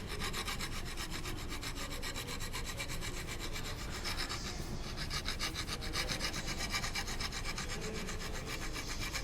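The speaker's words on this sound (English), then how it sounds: "With the help of draw file, just draw filing will make that particular surface smoother" Steady rhythmic rasping of a hand file being draw-filed along a metal workpiece at a fitting bench, continuous close strokes with no pauses and no talking.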